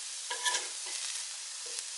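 Onions and peppers fry in a pan with a soft, continuous sizzle and light crackle, a couple of brief stirring scrapes rising near the start and again toward the end.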